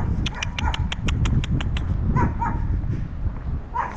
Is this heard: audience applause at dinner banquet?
no